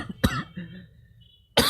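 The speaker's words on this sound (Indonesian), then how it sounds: "Tadi batuk kesedak ya, bukan sedang sakit." A single sharp choking cough during a religious sermon, followed by a short throaty vocal sound and a quiet pause, then another abrupt burst at the end.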